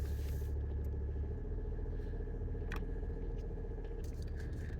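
A BMW E85 Z4 being driven, its engine and road rumble forming a steady, loud, continuous drone inside a bumpy cabin, with occasional small rattles and clicks over it.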